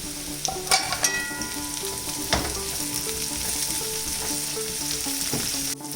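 Capsicum pieces fry in a hot pan in a steady, close sizzle, broken by a few sharp utensil clinks and stirring scrapes, with no voices.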